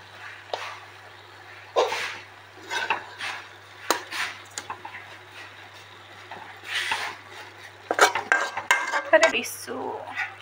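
A boiled fish mixture with ginger and garlic is stirred in a pan, with a utensil repeatedly scraping and clinking against the metal in an irregular rhythm over a steady low hum.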